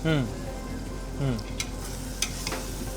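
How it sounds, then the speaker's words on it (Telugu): Secret masala frying briefly in a pan before coconut milk goes in for pulao, a low steady sizzle with a few light clinks and stirring scrapes, plus faint short tonal sounds near the start. "అది రాకుండా కొంచెం ఫ్రై అయ్యేలా చేస్తున్నామంట"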